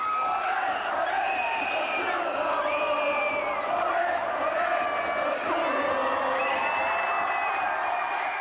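Big football crowd at a K League Super Match between rivals, roaring and whooping in celebration of a goal, a dense, sustained wall of cheering with scattered shouts rising above it throughout.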